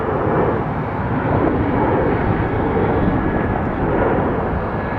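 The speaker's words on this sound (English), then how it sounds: "Taking off to the west. 27 right is the runway." Fixed-wing airliner taking off from runway 27 right at Atlanta Hartsfield-Jackson airport, a loud, continuous engine roar with a deep rumbling low end that holds steady throughout, with no talk.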